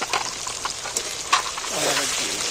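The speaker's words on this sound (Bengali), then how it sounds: "আবার আমি তেলের মধ্যে ফের একটু নাড়াচাড়া করে ভেজে নেব" Turmeric and Kashmiri red chilli powder fry in hot oil while being stirred for a chicken dish, making a steady close sizzle with scraping stir strokes, under a voice talking.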